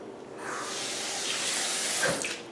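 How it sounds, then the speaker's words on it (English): Water runs from a tap into a bowl of mixed macaroni salad sauce, a steady close hiss that builds for a couple of seconds and then tapers off. "just pour some water in there just to help make it less sticky"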